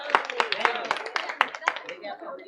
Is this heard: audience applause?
yes